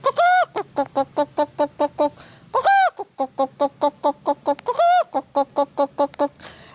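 A man imitates a hen clucking with his voice, a rapid rhythmic series of short, evenly spaced clucks broken by three drawn-out, rising squawks.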